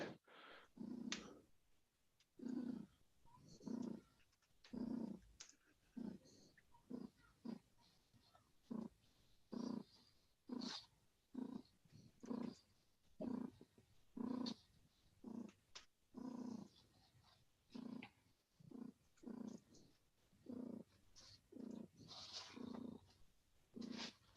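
A cat purrs close up in a steady, rhythmic pattern, each rumbling breath cycle repeating about once a second for a long stretch, with nothing else heard.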